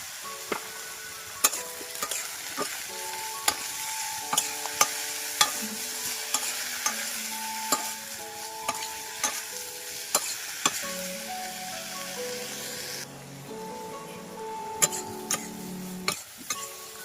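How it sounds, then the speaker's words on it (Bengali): Eggplant pieces frying in a pan with turmeric and salt, with a steady close sizzle broken by repeated stirring scrapes and sharp utensil clicks against the pan; no talking. "আর হলুদ আর লবণ দিয়ে হচ্ছে এগুলো একটু ভেজে নিব কিছুক্ষণ।"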